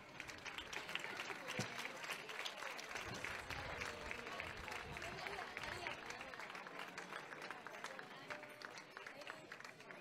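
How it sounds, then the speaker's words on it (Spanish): An audience at a school end-of-year festival gives long, loud applause mixed with crowd noise and voices, dense clapping continuing steadily for about ten seconds. "Vamos a recibir con un fuerte aplauso a Erin, Lucas, María y Lucía."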